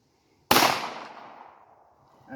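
A single sharp gunshot from a Beretta M9-22 .22 pistol at an outdoor shooting range, a loud crack at the onset that decays into a long reverberant tail, with a faint sound near the end.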